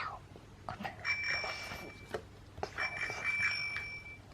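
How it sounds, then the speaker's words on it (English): Two bursts of bright, high bicycle bell ringing, each lasting about a second, from a children's transport sound book in which a wolf rides a bike. The rings are close and clear with no talking. "Can you ring the bell on Wolf's bike?"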